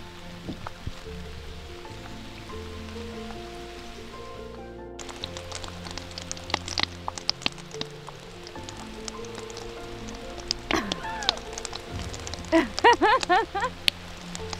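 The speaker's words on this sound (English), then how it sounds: "Well, it was just drizzling before, but now it's like raining." Rain falls on the shade trees beside a cabin on a hot, dry summer day, a soft, continuous patter of drops under close conversation.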